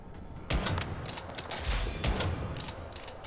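Rapid bursts of gunfire in the video game Once Human, loud and close, several sharp volleys firing in quick succession with no talking over them.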